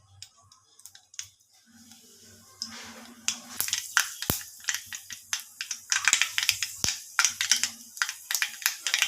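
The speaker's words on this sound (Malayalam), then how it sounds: "നമുക്കിനി ഇറച്ചിക്ക് കടുക് വറുക്കാം." Mustard seeds for a beef curry popping in hot oil, sparse crackles at first that build into a dense run of sharp, close snapping pops.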